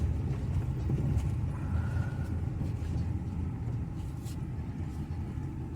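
A truck's engine rumbles low and steady while it maneuvers around a landfill to find a spot to park and back up, a continuous close drone with no talk over it.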